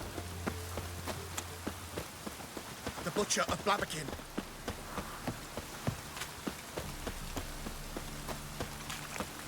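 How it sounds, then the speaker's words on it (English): Rain falling in the video game The Witcher 3: Wild Hunt, a steady patter of drops on surfaces with a burst of running footsteps, under a man's spoken line and low background hum. "Raining again."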